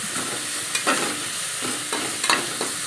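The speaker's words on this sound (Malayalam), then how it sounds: "അപ്പോൾ ഞാനിപ്പം തക്കാളിപ്പഴവും സവോളയും 2 പച്ചമുളകും എല്ലാം കൂടെ ഇതിനകത്തോട്ട് ഇഞ്ചിയും വെളുത്തുള്ളിയും കൂടെ ചതച്ചും എല്ലാം കൂടെ ഇട്ടാണ് വഴറ്റുന്നത്" Tomato, onion, green chillies and crushed ginger and garlic sauté in a pan for a beef curry, with a steady close sizzle and a few spoon-stirring scrapes at intervals, no voices.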